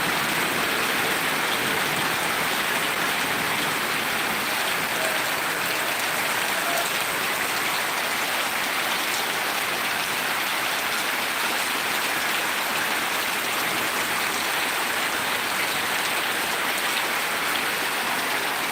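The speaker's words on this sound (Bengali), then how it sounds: "30 মিনিট এই মুষলধারে বৃষ্টি হচ্ছে।" Heavy torrential rain pours in a dense, unbroken roar of hissing water that stays loud and constant from start to finish.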